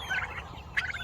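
Bronze turkeys gobble nearby in a farmyard, two quick rattling gobbles a moment apart, loud and close with no talk over them.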